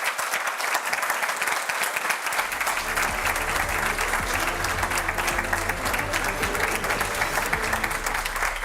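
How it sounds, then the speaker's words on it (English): An audience applauds at the close of a live EU enlargement summit broadcast, with steady, dense clapping over music that starts partway through. "A round of applause."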